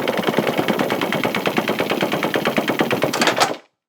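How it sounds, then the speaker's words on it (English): A procedurally generated heavy lock mechanism sounds like a dragged anchor chain, a dense train of rapid metallic clanks that rattles steadily for about three and a half seconds before stopping abruptly. "It's a kind of a weird lock. It's very heavy. It sounds more like an anchor chain"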